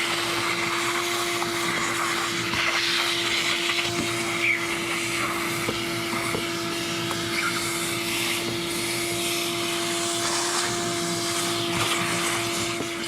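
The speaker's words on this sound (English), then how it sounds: "I'm going to get a shop vac, clean this up before we get down to the sending unit." A shop vac cleaning debris from the fuel tank area of a neglected 1985 Chevy Corvette runs as a steady, unbroken motor whine and airflow drone, fairly close, with no talking.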